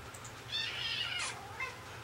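Cats fight and meow somewhere behind the listener, a drawn-out whining yowl with a sharper cry partway through, moderately distant over room noise.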